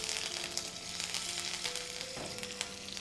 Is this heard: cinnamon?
yes